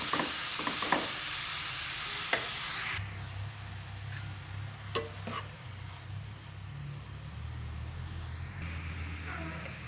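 Grated carrot frying in ghee for carrot halwa, a soft continuous sizzle with occasional spoon scrapes and clicks, louder at first and then settling into a quieter steady hiss.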